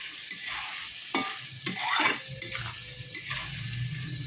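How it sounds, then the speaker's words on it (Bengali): Potatoes fry in oil in a pan with a soft sizzle, broken by several sharp scrapes and clinks of stirring. "আলু ভাজার জন্য তেল দিয়ে দিলাম"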